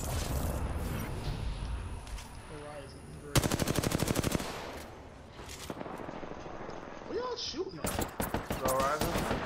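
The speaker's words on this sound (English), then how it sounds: "Shooting them." Rapid bursts of automatic gunfire rattle through a video game shootout, loud stuttering volleys broken by quieter gaps, with a player talking over parts of it.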